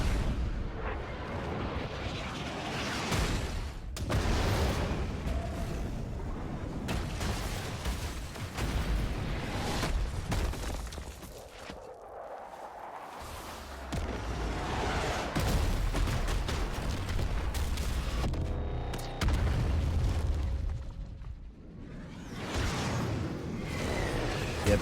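Explosions from the Conquest move in the Roblox game The Strongest Battlegrounds, a run of booming blasts, whooshes and crackling impacts that repeat in waves across the whole stretch with no talking.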